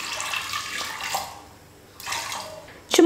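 Water pours from a vessel into a pressure cooker holding chana dal, making a steady splashing gush that pauses and then resumes, ending with a sharp metallic clink.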